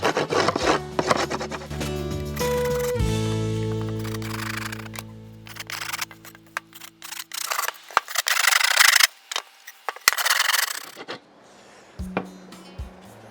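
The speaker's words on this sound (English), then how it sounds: "So I just rub the screwdriver down there and that gets rid of the burr." A screwdriver scrapes along freshly cut wooden mansion fence pieces to remove the burr, sounding as bursts of close rasping rubs with short pauses and a few knocks between strokes.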